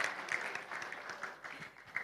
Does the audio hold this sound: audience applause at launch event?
yes